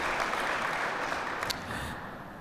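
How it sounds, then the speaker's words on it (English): Applause for soldiers and army professionals at a military change of responsibility ceremony, a steady wash of crowd clapping that slowly tapers off. "please give them another round of applause for this outstanding job"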